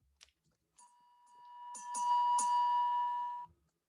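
An electronic quiz buzzer chime rings out during a buzzer check at a Japan Bowl quiz contest, a steady bell-like tone holding for under two seconds after a few short clicks, then cutting off into silence.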